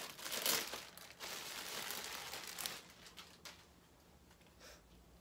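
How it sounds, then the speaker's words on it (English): Plastic packaging around a blue jumpsuit clothing order is torn and crinkled open close by, loud rustling bursts early that fade into softer scattered crinkles. "So let's open up the packaging."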